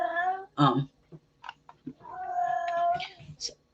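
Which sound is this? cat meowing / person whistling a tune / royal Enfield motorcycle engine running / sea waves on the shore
cat meowing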